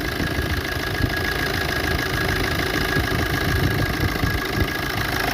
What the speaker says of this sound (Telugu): మీరందరూ ఇంజన్ సప్పుడు కూడా వినొచ్చు, ఎలా ఉంది సౌండ్ ఏంటిదని చెప్పేసి.